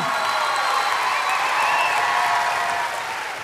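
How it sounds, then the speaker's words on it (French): A studio audience on a French-language television show applauds in a full, sustained wash of clapping that holds steady and then eases off slightly toward the end. "je pense qu'on peut l'applaudir à elle aussi"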